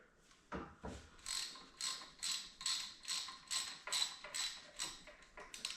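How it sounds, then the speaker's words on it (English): A ratchet tool clicks in a quick, even rhythm as an Allen screw on a QuickJack lift cylinder is turned, several faint repeated bursts of ratcheting in a quiet home garage. "So I'll just unscrew it a little bit on both cylinders."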